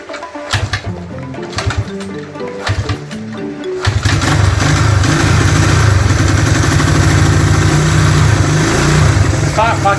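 Classic Honda CB motorcycle engine under restoration cranks in uneven bursts, then catches and settles into a loud, steady running idle close by, with people talking over the cranking.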